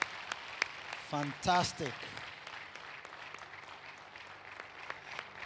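Members of a church congregation clap their hands in praise, scattered claps ticking along at moderate volume while someone briefly speaks over them partway through.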